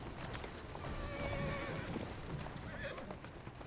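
Horse hooves clip-clop steadily while a horse neighs in the Assassin's Creed video game, with faint voices underneath.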